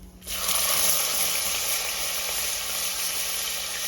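Garlic sizzles steadily in hot oil with cumin seeds in a pan while making sev bhaji, a loud continuous frying hiss that starts abruptly and holds its level throughout, with no talking.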